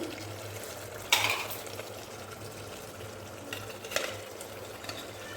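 Potatoes added to frying meat curry in a pan, giving a soft sizzle with a few sharp stirring scrapes and clinks, close and fairly quiet with no talking.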